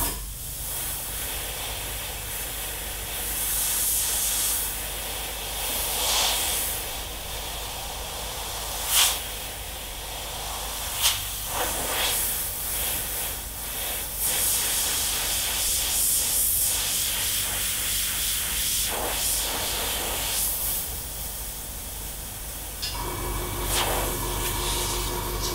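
An airbrush sprays paint onto a Bell helmet muzzle in a steady, close hiss that swells and eases in repeated passes, punctuated by short sharper bursts, with no talking over it.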